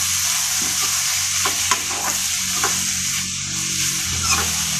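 Boiled squash and potato pieces fry in a pan, giving a continuous close sizzle with occasional stirring scrapes and crackles over nearly five seconds.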